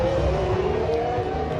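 An F1 race car from the video game F1 2021 drones at high revs, a loud, steady engine tone held close for under two seconds, with faint tyre noise underneath.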